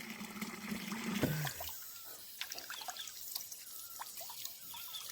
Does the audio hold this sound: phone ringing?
no